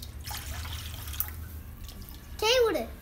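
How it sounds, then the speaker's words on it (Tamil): Water poured into a pan while making rava kesari, a soft running and dripping sound near the mic that swells into a brief louder splash toward the end. "இப்போ 2 கப் அளவுக்கு தண்ணி சேர்த்துக்க போகிறேன் அதே பேனில்"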